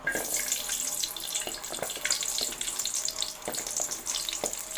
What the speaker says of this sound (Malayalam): വെളിച്ചെണ്ണ ചൂടാക്കിയിട്ട് അതിലേക്ക് കുറച്ച് ചുവന്നുള്ളി, വേപ്പില ഇട്ടിട്ട് വേപ്പിൻ്റെ ഇല ഇട്ടിട്ട് നല്ലോണം വഴറ്റിയെടുക്കുക.